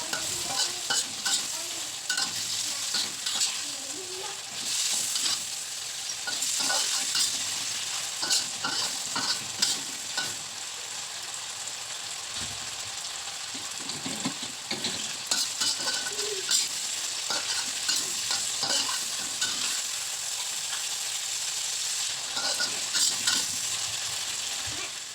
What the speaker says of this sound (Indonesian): Lalu aduk-aduk.